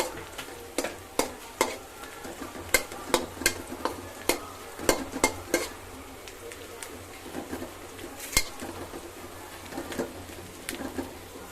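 Spices such as cinnamon and bay leaf sizzle in a pot of hot oil for mung dal pulao while being stirred, giving irregular scraping clicks over a steady low frying hiss, close and moderately loud.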